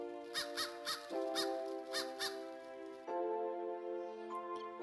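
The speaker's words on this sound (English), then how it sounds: "The American crow population is growing quite rapidly." American crows in the woods, drawn to tuna and anchovy bait left out, give a run of repeated harsh caws close by, with sustained tonal calls layered under them and no talking.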